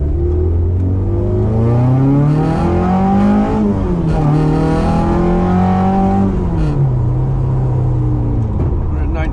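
A MK1 Ford Escort RS 2000 engine revs hard while the car drives in the rain. The loud, continuous engine note climbs and falls in pitch through several surges.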